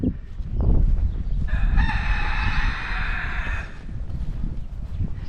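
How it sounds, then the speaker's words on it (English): A silkie rooster crows once on a farm, a loud drawn-out call of a couple of seconds heard fairly close amid low background rumble and shuffling. "It's a silky rooster. You can hear him crowing."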